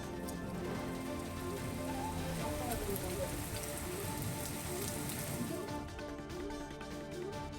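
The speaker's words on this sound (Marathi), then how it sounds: "नाशिक शहर आणि परिसरात पुन्हा मुसळधार पाऊस कोसळलाय" Heavy monsoon rain pours over Nashik city, a dense, loud and unbroken roar of rain hitting surfaces throughout.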